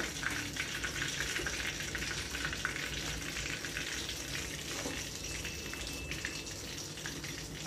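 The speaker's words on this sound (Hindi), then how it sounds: "बाकी की जो बची हुई लॉलीपॉप है वो भी इसी तरह हम फ्राई करेंगे।" Chicken lollipops deep-fry in hot oil, producing a dense, steady, bubbling sizzle that stays loud and close throughout, with no voices.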